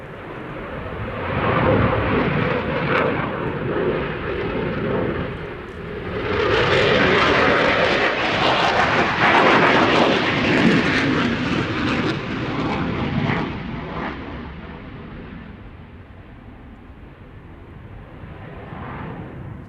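A BAE Systems Typhoon jet performs a flying display, its engine roar rising and falling over about twenty seconds as it passes, loud and sustained with a stronger surge midway before fading somewhat.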